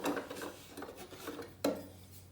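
Small hand-carved wooden utensils, a little spoon, a knife-style spreader, a spatula and a larger wood spoon, being handled and set down, giving soft clattering knocks with one sharper tap near the end, close and fairly quiet.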